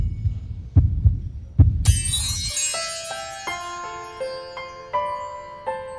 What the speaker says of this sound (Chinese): 这该死的心跳为什么会这样？